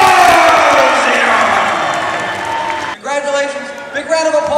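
Crowd at an MMA event cheers and applauds loudly after a unanimous decision, the roar fading after a few seconds as an announcer's voice takes over.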